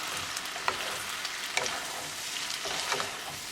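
Pasta being mixed with sauce in a pan of vegetable pasta, a continuous close sizzle with a few soft scrapes of the spoon throughout.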